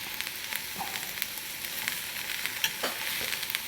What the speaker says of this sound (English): So what we're gonna do to look for is just cook the mushroom and the onions